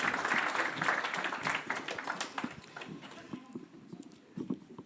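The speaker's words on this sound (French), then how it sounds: "Je vous demande d'applaudir Estelle Lefebvre" A crowd at a motorsport conference panel on women in motorsport applauds steadily, dense clapping at first that gradually thins and softens toward the end.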